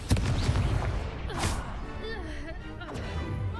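Confringo blasting spell in Hogwarts Legacy, a sharp explosive burst at the start followed by further booming impacts and whooshes, loud and close over game sounds with a voice calling out.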